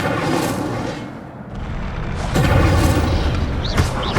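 An Incendio fire spell cast in Hogwarts Legacy: a booming, whooshing burst swells after a brief lull, loud and close, with a rising whistle-like tone near the end amid the game's ambient rumble.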